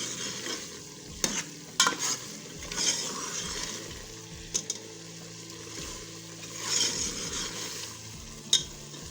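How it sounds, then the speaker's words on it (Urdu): Spoon stirring spiced mashed turnip and peas in a hot pan, with continuous sizzling and frying under repeated scraping strokes and a few sharp metallic clinks against the pan, close and steady with no talk. "اس لیے ہم نے مسلسل اس کی 2 سے 3 منٹ کے لیے بنائی کرتے جانا ہے، چمچہ ہلاتے جانا ہے۔"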